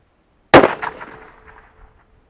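A single Franchi Momentum .308 rifle, glass bedded, fires one loud, sharp report, then a ringing echo that fades away over about two seconds. No voices are heard.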